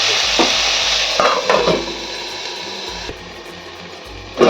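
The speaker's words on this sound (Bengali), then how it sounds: "সব কিছু মিক্স করে দিয়ে আমি ভেজে দেবো" Okra, pumpkin and mango seasoned with salt and turmeric fry in a pan with a constant close sizzle, broken by several scraping stirs and clanks of a spatula.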